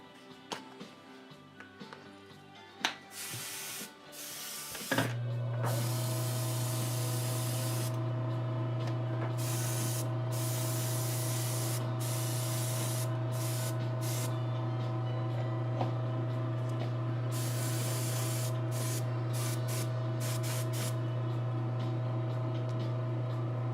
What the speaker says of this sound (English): I need to do another session of cleaning my airbrushes.